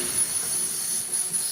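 A steady, bright hiss of gas escaping from an open bottle valve, continuous and fairly loud, with a faint high whine running above it throughout.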